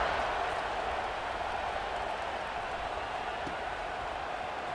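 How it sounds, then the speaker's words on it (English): Stadium crowd in a football video game buzzing after a touchdown, a steady broad wash of distant murmuring and cheering with no distinct peaks. "this crowd is buzzing after that last score"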